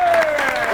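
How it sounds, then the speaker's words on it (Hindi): A studio audience at a political comedy talk show claps, a short burst of close, steady applause with talk over it. "ताली"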